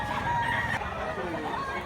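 At a fowl market in Mantalungon, Cebu, a stag crows out clearly nearby, with clucking chickens and faint crowd murmur underneath, all within a brief stretch.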